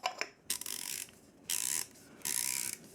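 Sharp ratcheting clicks from adjusting the grind setting dial on a 1Zpresso ZP6 hand coffee grinder, coming in three distinct bursts of rapid clicking separated by brief pauses, close and clear with no talking.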